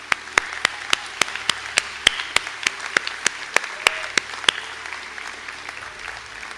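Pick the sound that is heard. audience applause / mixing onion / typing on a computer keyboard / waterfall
audience applause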